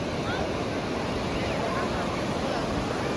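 Surf washing ashore continuously at Appikonda beach, a broad steady roar of waves with wind noise across the microphone and no clear breaks, fairly loud and close.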